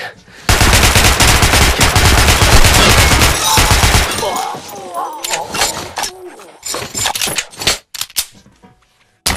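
Rapid enemy gunfire in Metro: Last Light, a loud dense burst of automatic fire for several seconds, then scattered sharp single shots amid shouting voices and other game sounds.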